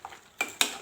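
A spoon stirs a bottle gourd curry mixture with salt in a pot, giving two short scraping swishes against the pan amid quiet background.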